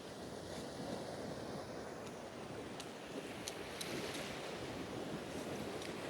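Sea waves wash steadily onto the sandy shore at Soli in Mersin, a continuous rushing surf with wind buffeting the microphone and no one speaking.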